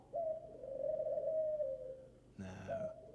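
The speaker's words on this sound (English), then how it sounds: "it's the owl" A bird coos in a long, steady, droning note that holds for about two seconds, then a brief rougher burst gives way to a second coo. The call is clear and close, with no one talking over it.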